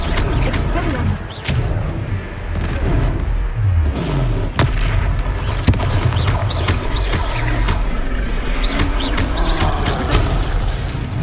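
Expelliarmus spell blasts in a Hogwarts Legacy duel fill the scene with a continuous, loud wash of booming impacts, crackling bursts and shattering crashes, with voices mixed faintly into the din.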